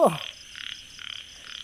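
A frog croaks in rain, repeated buzzy calls in a steady rhythm, close and clear, after a brief splashy knock at the start.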